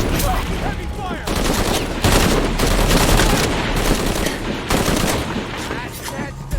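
Heavy gunfire in Shadow of the Tomb Raider: loud, close, rapid automatic bursts of shots in repeated waves throughout, with occasional voices shouting in the fight.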